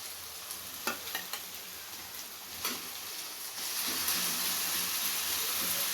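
Garlic and green chilies fry in a pan for gobi manchurian, a soft steady sizzle broken by a few light stirring taps, then swelling into a louder, fuller hiss for the last few seconds.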